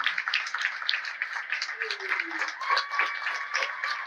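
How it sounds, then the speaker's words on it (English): Applause from an audience at an annual partner meeting in Tucson, a steady moderate wash of clapping with some cheering tones and faint voices mixed in throughout. "Please take a moment to give Sierra the applause she deserves"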